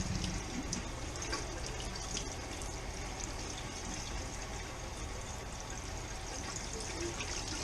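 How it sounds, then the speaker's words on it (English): Bass and blue catfish fillets are rinsed with clean fresh water after an icy vinegar-water soak, giving a steady, close wash of running and splashing water that continues without pause. "draining the vinegar water off of them and rinsing them lightly with a little clean fresh water"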